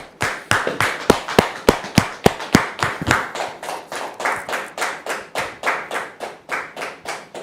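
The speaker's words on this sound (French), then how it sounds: "Dame Hélène, sous vos applaudissements, s'il vous plaît" Audience applause at a French-language gathering welcoming a guest: a small group claps in a rhythmic, fairly loud unison beat, sharp individual claps at first, then a steady even pulse of synchronized clapping.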